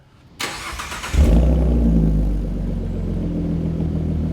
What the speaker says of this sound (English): Immediately at idle, you can hear it's a much deeper tone than the factory exhaust.